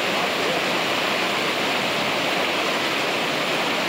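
Fast-flowing river water rushes in a steady, dense roar, close and constant with no pauses, like a strong current or small rapid.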